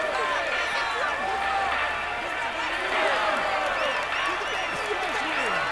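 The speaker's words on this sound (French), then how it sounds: "Allez, on l'applaudit encore" Tour de France 2020 stage 15 crowd (Lyon to Grand Colombier) applauding and cheering the yellow jersey: a continuous, dense wash of massed voices and clapping at steady loudness for the whole stretch.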